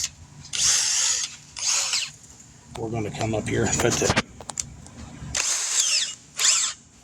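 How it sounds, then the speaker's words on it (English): A power drill spins a valve lapping tool on 289 cylinder heads in several short bursts, loud and close, with a person talking in the gap between runs. "I'm going to get my drill."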